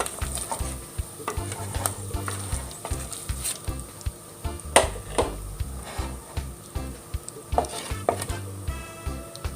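Tiny dried fish fry in oil, a close, bubbling sizzle with frequent clinks and scrapes of stirring and no voices.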